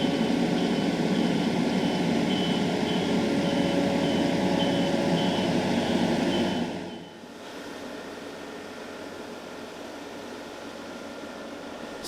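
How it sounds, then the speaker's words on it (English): A steady, loud mechanical whir and rushing hiss from a street cleaning machine nearby in Newquay, dropping suddenly in level partway through as it moves off or changes pitch. "Sorry about the noise there, they're cleaning the streets"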